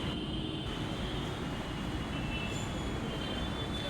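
A metro train at Dakshineswar metro station, heard as a loud, steady broadband rumble and roar of rolling carriages that holds throughout, with a faint high whine near the end.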